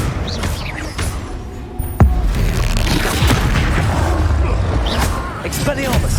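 A Confringo blasting spell fired in Hogwarts Legacy gameplay on PS5, producing a loud close boom at about two seconds over a busy bed of combat noise, with a shouted spell voice.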